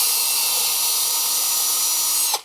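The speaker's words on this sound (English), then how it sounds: "drill in from the sides using that bit" A high-pitched power drill whines steadily while boring into the side of a wooden wine caddy, then winds down abruptly at the end.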